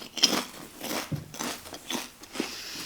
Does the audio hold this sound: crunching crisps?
yes